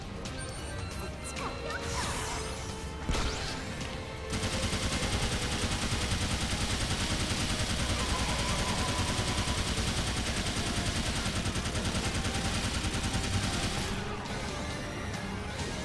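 A Gatling gun in the shooter Sword Art Online: Fatal Bullet rattles off a dense, sustained stream of rapid fire, loud and continuous, with a few heavy impact crashes at the start and end.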